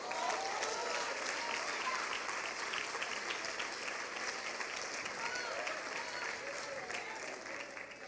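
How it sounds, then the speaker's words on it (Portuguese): A church congregation applauds Jesus with dense, continuous clapping that fills a large room, steady and full throughout with a slight fade near the end. "Pode aplaudir a Jesus."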